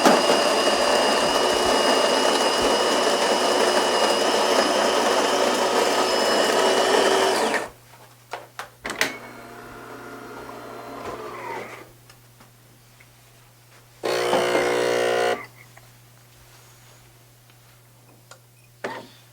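A DeLonghi Magnifica 3300 espresso machine brewing a single shot: a loud steady hum and buzz runs for several seconds, then stops, followed by quieter clicks, gurgles and a short burst of buzzing.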